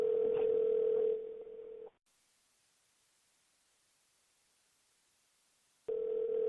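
An office telephone line sounding a steady electronic tone that breaks off into near silence, then returns at the end, with no voices.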